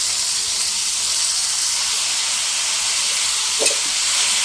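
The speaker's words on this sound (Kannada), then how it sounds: "ಇದನ್ನು ಇವಾಗ ಚೆನ್ನಾಗಿ ಬಾಣಲಿಗೆ ಹುರ್ಕೊಳ್ಳೋಣ." Carrot, capsicum and tomato for an egg roll fry in a pan with a steady bright sizzle and hiss, close and continuous, with a brief stir sound near the end.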